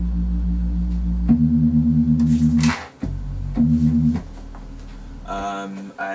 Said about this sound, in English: But the original kind of Reese sound